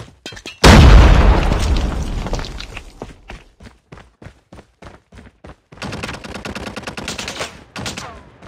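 A frag grenade detonates with a loud, close boom in a Call of Duty match, its rumble decaying over a couple of seconds before sharp single gunshots pop at intervals and then give way to dense bursts of automatic gunfire.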